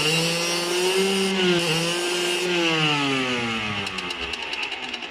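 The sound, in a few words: moped engine running after kick start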